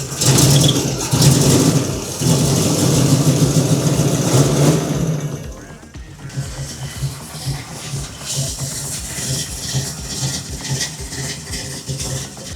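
A 1958 Ford F100 engine with a struggling carburetor runs rich, loud and rough for about five seconds before dropping to a quieter, steady uneven idle, close by with no talk.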